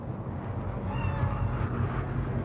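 A cat meows in Cyberpunk 2077's Night City, a faint cry or two sitting over a steady low ambient drone of game background sound, with no talk.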